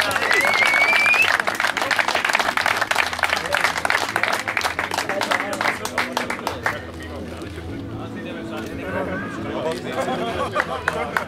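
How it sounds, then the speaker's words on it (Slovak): Crowd applause at the award ceremony of the PRENGO CUP 2013 tournament, loud and sustained clapping throughout, with babble of the crowd and an announcer's voice mixed in, thinning toward the end. "Ešte raz mu zatlieskame."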